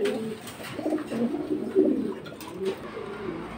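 Lahori Siraji pigeons cooing at a pigeon market, several soft, low, rolling coos rising and falling over a few seconds, fairly close, with faint background noise.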